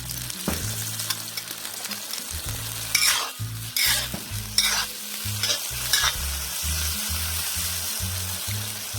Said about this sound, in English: throw in your tomatoes